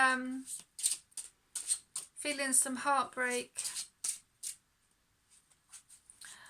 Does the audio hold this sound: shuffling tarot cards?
yes